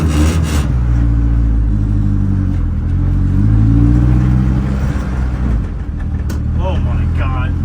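A car with a built Honda H22A engine labors loudly in second gear close to stalling, a heavy low drone that bogs and wavers while someone talks over it.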